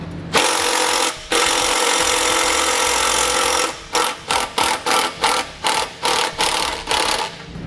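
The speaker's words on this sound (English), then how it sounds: "I'm going to remove these bolts so I can take this whole muffler off" A power tool removes the muffler bolts on a 2014 Subaru Forester, first as a loud continuous whir, then as a rapid run of short, evenly spaced bursts up close.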